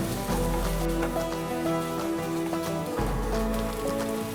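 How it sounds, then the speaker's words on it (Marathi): Onion frying in hot oil in a pan, a steady dense crackling sizzle like rain on a surface, continuous and close, with a faint tonal hum beneath. "आता ह्याच्यात आपण कांदा परतून घ्यायचे हा कांदा जरा छान असा परतून घेऊया आपण"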